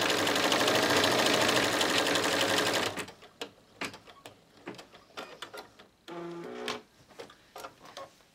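An embroidery sewing machine runs stippling stitches on an in-the-hoop mug rug, first a loud continuous whir for about three seconds, then broken ticking and clattering with a short mechanical burst near the end.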